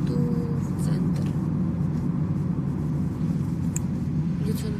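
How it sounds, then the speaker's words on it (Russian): Steady low engine rumble and road noise from inside a moving taxi heading into a city centre, a continuous muffled drone with faint higher whines throughout. "Я еду в такси, еду в центр."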